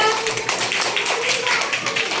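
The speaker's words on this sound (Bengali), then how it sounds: "সবাই একটু হাততালি দাও তো।" Children clap their hands together in a short burst of scattered claps while a voice speaks over them.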